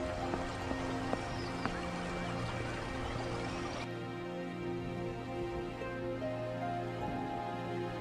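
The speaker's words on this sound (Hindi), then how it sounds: "बारिश रुकने का नाम ही नहीं ले रही है" Rain falls steadily in a Hindi cartoon moral story, a constant hiss layered under sustained musical tones that shift partway through.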